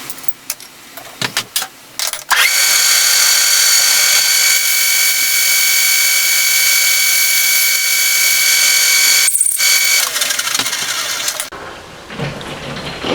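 A parting tool on a metal lathe cuts off a steel part, with a few clicks and knocks followed by a loud, sustained high whine of the spinning work for about nine seconds before it stops; no one talks.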